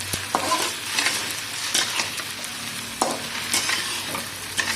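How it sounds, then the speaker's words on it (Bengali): Spices are stirred in a frying pan, the spoon scraping and clattering in repeated strokes over a soft continuous sizzle, close and moderately quiet, with no talking. "মশলাগুলো মিক্স করে নিতে হবে।"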